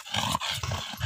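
A dog barks and growls in a few quick, loud bursts close by, with no talking.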